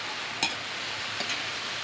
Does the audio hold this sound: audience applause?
no